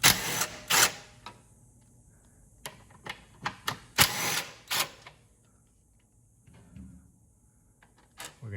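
A 13 mm ratchet wrench works on bolts under a 2016 VW Passat, giving bursts of clicking and knocking in irregular clusters, fairly near, with quieter gaps between them.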